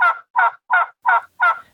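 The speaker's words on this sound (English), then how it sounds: "That is the sound of the turkey." A wild turkey at an orchard in New York's Finger Lakes region gobbles in five loud, evenly spaced bursts, close by and clear against silence.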